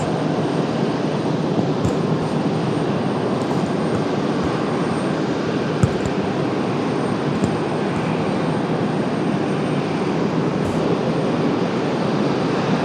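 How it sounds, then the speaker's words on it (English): A Delta airliner departs Raleigh Durham International Airport for Los Angeles, its jet engines producing a loud, steady broadband roar that holds constant throughout with a few faint clicks. "we have that departure of Delta to Los Angeles"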